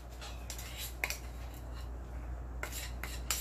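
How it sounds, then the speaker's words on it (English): Quiet scraping of keto meatloaf mixture into a glass baking dish, soft irregular rasps and a few sharper scrapes over a low background hum. "Let's scrape this in here."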